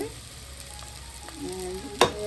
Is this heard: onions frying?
yes